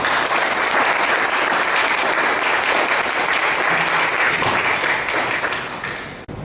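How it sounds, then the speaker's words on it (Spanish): A seated audience at a book presentation in a cultural centre breaks into loud, dense applause that holds steady for several seconds before tapering off at the end. "pues les damos un aplauso"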